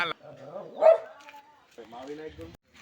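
A dog barks in a street, a single short bark standing out near the start amid ongoing talk by a man walking through a lane.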